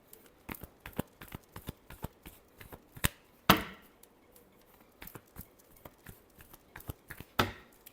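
A deck of tarot cards is shuffled by hand, producing a run of quick, crisp flicks and taps up close, with a couple of louder riffling bursts standing out among the lighter patter.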